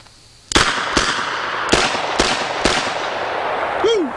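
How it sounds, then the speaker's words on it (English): Five heavy gunshots from a revolver loaded with two 45 Colt cartridges followed by three 3-inch Magnum 410 shotshells, sharp loud reports spaced about half a second apart, each with a ringing decay, then a brief whoop from a voice. "We have a couple of 45 Colt cartridges in the cylinder, followed by 3 3-inch Magnum 410 shot shells."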